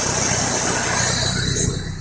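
Close idle of a 1994 Mazda MX-3 engine with a vacuum leak, a steady low rumble with a faint hiss that dips slightly in level near the end.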